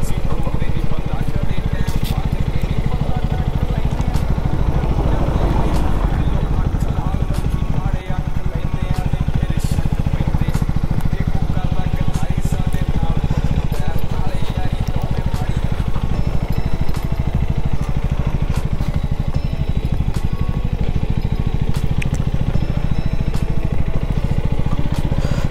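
A KTM Duke 250 Gen 3 motorcycle rides steadily, its engine droning continuously and fairly loud throughout, with someone talking over the engine noise.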